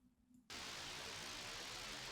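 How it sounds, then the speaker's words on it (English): White noise used as a texture effect in a UK garage track cuts in abruptly after a brief quiet moment and then holds as a steady, dense hiss at an even level. "White noise, just to add some texture to our drop."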